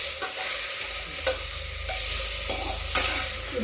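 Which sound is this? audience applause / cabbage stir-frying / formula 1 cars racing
cabbage stir-frying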